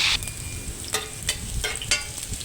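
Chicken thighs frying in a pan for sweet and sour chicken: a steady sizzle with a few louder bursts and scrapes as the pieces are turned, close up and with no talk.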